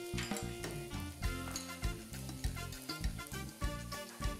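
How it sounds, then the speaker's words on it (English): Chopped garlic fries in two tablespoons of oil in a wok over medium heat, with a steady close sizzle broken by repeated rhythmic clanks and scrapes of stirring. "In a wok, over medium heat, put in 2 tablespoons of oil. Fry 2 cloves of chopped garlic"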